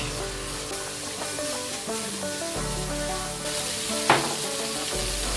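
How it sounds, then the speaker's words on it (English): Finely chopped Shimla mirch (capsicum) fries in groundnut oil with a steady, close sizzle, and soft background music plays over it. "Just 2 minutes it will take to fry the finely chopped Shimla mirch."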